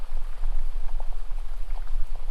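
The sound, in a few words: babbling stream water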